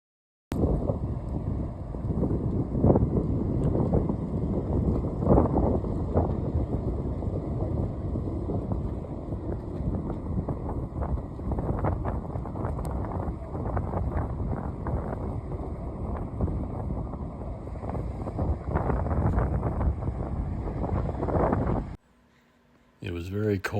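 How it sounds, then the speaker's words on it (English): Cold, gusty wind near a glacier in the Canadian Rockies roars and buffets the microphone in a continuous low rumble, with speech faintly under it, then cuts off abruptly near the end. "It was very cold and windy"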